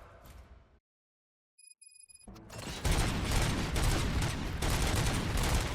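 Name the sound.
gunshots in the video game RoboCop: Rogue City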